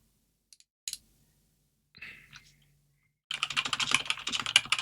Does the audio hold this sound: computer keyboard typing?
yes